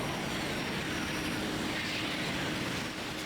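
Steady engine drone of a boat gliding across water in World of Warcraft: Mists of Pandaria, a continuous broadband rumble and hiss holding an even level throughout with no talk over it.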